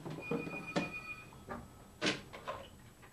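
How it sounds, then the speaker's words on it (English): A thin electronic telephone tone rings for a moment amid clunks and knocks nearby, no one speaking. "Phone's ringing"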